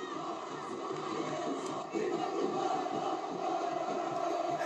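Football supporters in a Brazilian stadium chanting their song together, a broad, steady roar of many voices that swells slightly partway through and carries on without a break.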